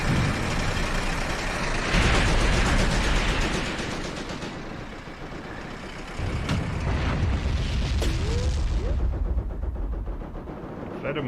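Artillery shells exploding in the war game Graviteam Tactics, with heavy booming blasts around two and six seconds over a constant rumble of battle noise, and more distant crackling fire later on.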